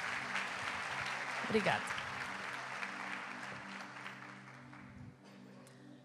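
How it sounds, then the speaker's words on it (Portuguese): Audience applause for an assistant during a church worship performance, a steady wash of clapping that runs the whole way through, with a voice and a low sustained keyboard tone beneath it. "Vamos dar uma salva de palmas para ele."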